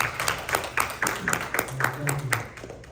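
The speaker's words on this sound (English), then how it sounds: "Clap it up for that, real quick." An audience claps steadily through a rhythmic run of claps at moderate loudness while voices talk and cheer over them.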